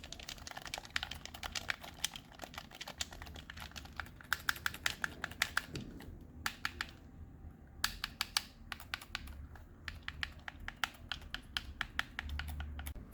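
Rapid, crisp clicks from the buttons of an original Nintendo Switch Pro controller, fitted with anti-friction tape, come in irregular bursts of tapping with brief pauses, close and alone.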